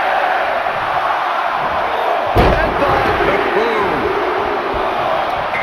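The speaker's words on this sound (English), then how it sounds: "Listen to this crowd count the next one in." An arena crowd in the WWE 2K25 wrestling video game counts along in unison during a pin attempt, a dense roar of many voices with a sharp slam partway through, under a commentator's voice.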